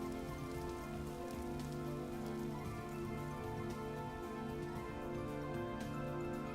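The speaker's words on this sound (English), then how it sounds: "Looks like it's gonna rain." Steady rain patters on surfaces in the video game Vintage Story, a soft, even hiss of drops that continues without a break and with no talk over it.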